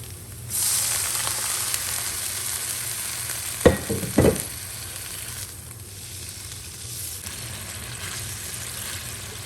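Pasta sauce with added water simmering in a pan for béchamel pasta, a steady close bubbling sizzle with a couple of brief louder stirring clatters in the middle, no talking.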